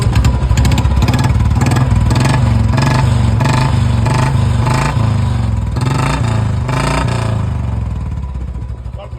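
A Royal Enfield Bullet Uce model motorcycle, freshly rebuilt with a new kit, head, clutch plates and crank work, idles loudly and steadily up close with a rhythmic thump and mechanical clatter, briefly revved, fading slightly at the end.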